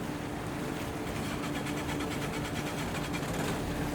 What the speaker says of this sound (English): Does it sound like a diesel engine?